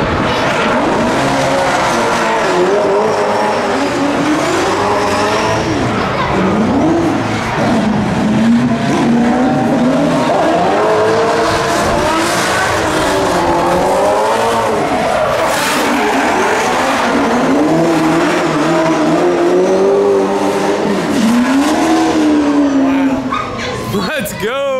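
A Nissan S13 drifts around a track, its engine revving hard and rising and falling in waves while the tires squeal almost without a break, loud and close for the whole stretch.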